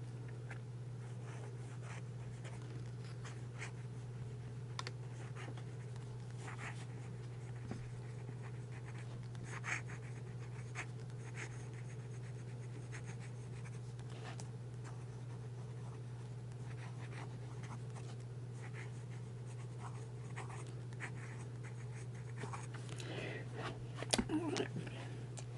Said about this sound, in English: It writes very well, no skips, no problem starting right up.